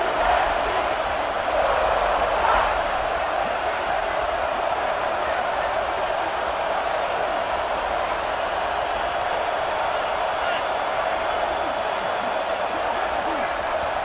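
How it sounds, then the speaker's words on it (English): A packed stadium crowd roars steadily at a USC versus Miami football game, a dense, loud, continuous wash of noise with no break, rising as the defense takes the field and the crowd forces a false start. "with this place rocking, the crowd forces a false start"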